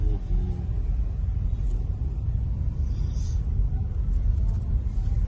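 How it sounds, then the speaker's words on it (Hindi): Low, steady rumble of a car engine creeping slowly while parking, a constant drone close by with no voices over it. "हम लोग गाड़ी यहाँ पे पार्क करेंगे फिर जाएंगे"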